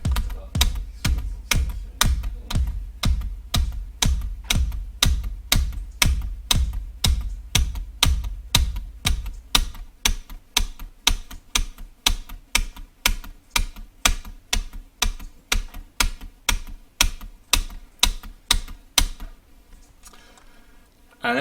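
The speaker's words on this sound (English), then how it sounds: "So I just have to tap my keyboard." Steady, rhythmic tapping on a computer keyboard while playing the rhythm game Cadence, each keystroke distinct and evenly spaced, continuing for a long stretch with no talking.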